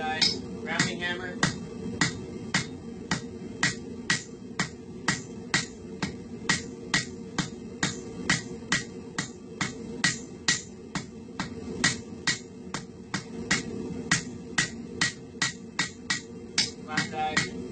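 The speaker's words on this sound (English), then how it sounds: "Squaring it, flat die, rounding hammer." A rounding hammer repeatedly strikes hot steel on an anvil's flat die during blacksmith forging of a leaf hook, producing sharp, ringing metallic blows in a steady rhythm, close and loud, with brief pauses between series.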